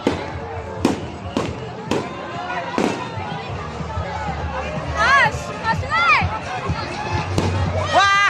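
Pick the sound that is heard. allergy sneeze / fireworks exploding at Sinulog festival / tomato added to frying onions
fireworks exploding at Sinulog festival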